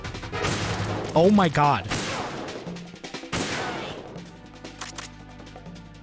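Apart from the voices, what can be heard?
gunfire in the video game Metal Gear Solid 2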